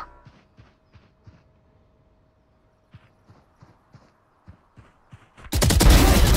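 Video game gunfire: scattered sharp, sparse shots and clicks, then a sudden loud, dense burst of rapid fire at the end.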